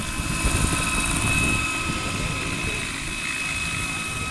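Steady, loud whirring rotor and engine drone of a model helicopter in flight, continuous throughout with no pauses.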